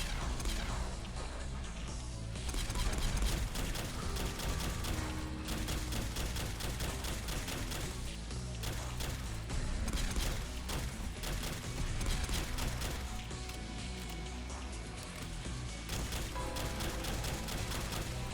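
A multi-plas rifle in Fallout 4 fires in a rapid, continuous stream of crackling shots with clanking impacts, fairly faint and steady throughout, with no voices.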